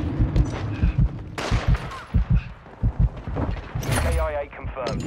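Gunfire and explosions in Call of Duty Modern Warfare 2 multiplayer, with sharp repeated shots in clusters, a loud blast, and game voice lines over the top.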